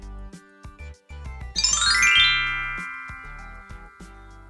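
A bright notification bell chime rings out loud and clear, a quick rising shimmer of tinkling tones that sustains and fades over a couple of seconds, set among other short electronic effects.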